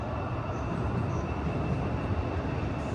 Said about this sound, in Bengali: এই যে আরেকটা ট্রেন আসছে আরেকটা ট্রেন আসছে